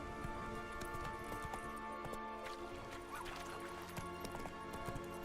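Hooves of Roach, the horse in The Witcher 3, clip-clop in a steady gallop under a dense, busy game soundscape, fairly faint overall with no clear talk.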